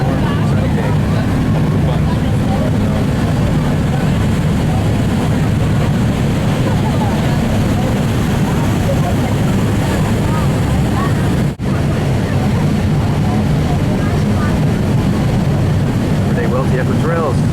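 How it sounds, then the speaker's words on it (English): Steady engine drone and water rush of a cruise boat on Lake Lucerne in the Swiss Alps, running from Brunnen back to Lucerne on a sunny day, a continuous loud rumble with wind buffeting the microphone throughout. "We're on our Lake Lucerne boat cruise"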